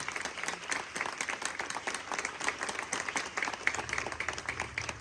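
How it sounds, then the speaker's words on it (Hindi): A church congregation claps loudly for Jesus during a worship service, a dense, steady applause with rapid individual claps that continues evenly throughout. "जोरदार ताली यीशु मसीह के लिए, जोरदार ताली यीशु के लिए।"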